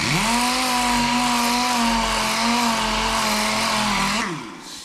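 Pneumatic dual action sander working a chain case, a steady loud motor whine holding one pitch for about four seconds before spinning down at the end, close to the microphone.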